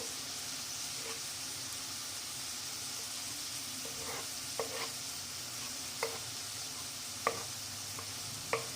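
Onions and carrots sauté in a pan for Indian-style tomato pasta, giving a steady, even sizzle throughout, broken by occasional light scrapes and taps of a spoon stirring.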